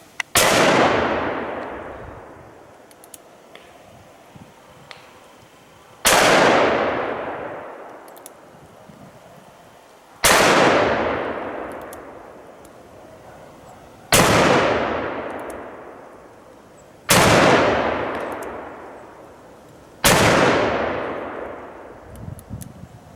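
A Colt Walker black powder revolver fired six times at a range, each shot a loud sharp boom with a long fading tail, spaced roughly four seconds apart with no talking.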